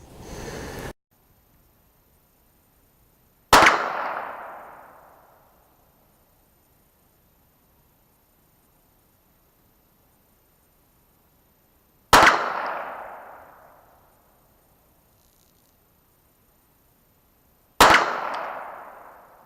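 Three sharp, loud reports from a CZ75 SP01 Shadow pistol firing Berry's bullets, spaced several seconds apart, each with a short decaying ring, plus a brief noisy burst at the start.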